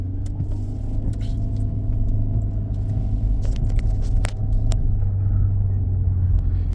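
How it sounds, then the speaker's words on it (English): A Jeep Renegade driving with a broken motor mount gives a steady low engine rumble inside the cabin, with faint knocks and rattles over the continuous drone. "the noise that they're hearing is because they got a broken motor mount"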